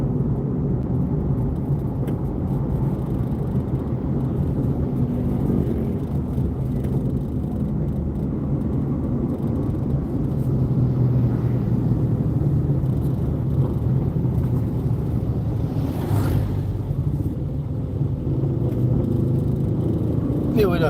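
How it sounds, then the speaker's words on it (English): Morning street traffic in the Philippines: a steady roar of cars and engines passing nearby for the whole stretch, with a brief louder whoosh partway through. "It would appear maybe we did not miss all the morning traffic."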